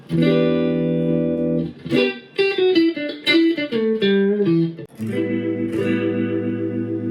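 Electric guitar played through an amp simulator with chorus and distortion, sustained chords and a short melodic run, no voices.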